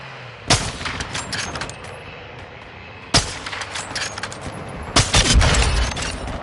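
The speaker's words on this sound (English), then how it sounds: "Friendly mortar strike inbound." Three heavy mortar strike explosions in a video game land a few seconds apart, each a sudden loud blast trailing into crackling debris and rumble, the last one the deepest and strongest.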